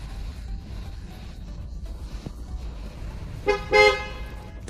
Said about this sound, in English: Click OK only after the car honks twice.